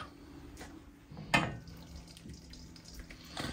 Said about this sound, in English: So now what's going to happen is we're going to drain it.